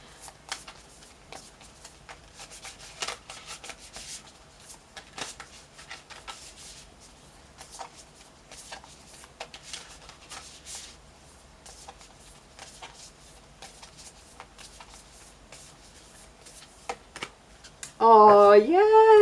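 Spellcraft oracle cards are shuffled by hand before one is drawn: a long run of soft, irregular riffling and rubbing taps, fairly quiet and close, ending as a voice starts speaking.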